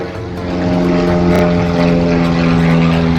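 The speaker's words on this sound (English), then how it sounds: "Airplane! Airplane!" A propeller airplane drones overhead, its steady buzzing tone loud and close, swelling slightly as it passes.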